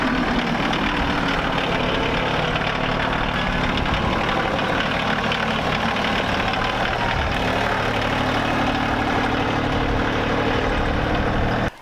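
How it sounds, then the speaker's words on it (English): A tractor engine idles steadily and close by, a continuous low rumble with a faint knocking texture, no voices. "Let me grab the tractor"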